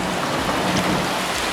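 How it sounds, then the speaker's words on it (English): Steady rain falling outdoors on a sightseeing day, a dense, even hiss of drops lasting the whole moment with no voices over it. "Hey, it's raining."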